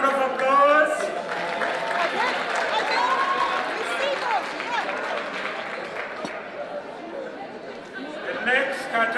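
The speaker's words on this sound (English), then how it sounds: "big round of applause" A crowd applauds at a police provincial excellence awards ceremony, with steady, dense clapping and murmuring chatter that stays fairly loud throughout and swells briefly again near the end.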